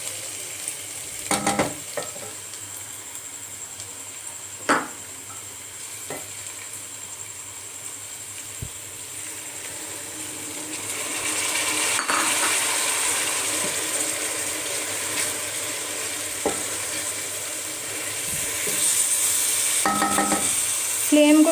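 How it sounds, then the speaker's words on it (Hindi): Tomatoes and spices sizzle and fry in a pan while being mashed and stirred for Punjabi-style egg karahi, a steady close crackle with occasional scrapes and clinks of a spoon, growing louder partway through. "फिर इसको थोड़ा सा मैश करके तो उसको अच्छे से भून लूँगी"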